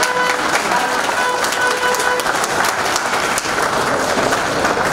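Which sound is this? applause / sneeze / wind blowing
applause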